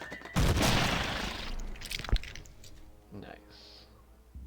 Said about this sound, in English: Let's just grenade them.